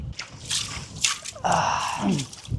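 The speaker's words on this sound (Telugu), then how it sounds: "మనం అయితే ఇప్పుడు నీళ్ళు అయితే తీసుకుందాం" Cold rainwater being scooped by hand at a rainy tribal campsite in Araku, with close drips, squishy splashes and sloshing, including a fuller splash midway, loud and near with no talk.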